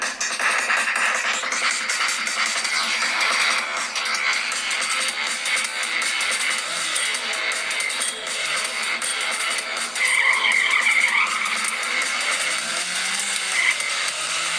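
A racing car in the mobile game Nitro roars steadily with a continuous engine whine and tire noise, loud and unbroken, with a brief higher screech of skidding partway through.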